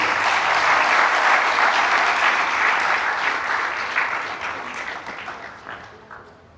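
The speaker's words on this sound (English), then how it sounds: "give one round of applause for our panelists" Conference audience applause for panelists at a mental health and brain science symposium, a dense, sustained ovation that starts loud and gradually fades out over several seconds.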